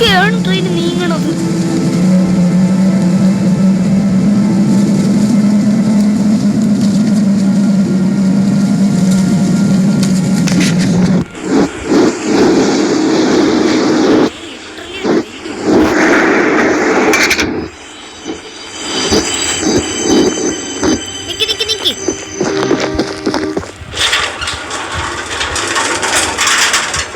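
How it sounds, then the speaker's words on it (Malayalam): A slow-moving train in the horror video game Choo Choo Charles gives off a loud, steady engine rumble and hum that later breaks into uneven mechanical bursts and clatter, with players talking over it. "പതുക്കെയാണ് ട്രെയിൻ നീങ്ങണത്."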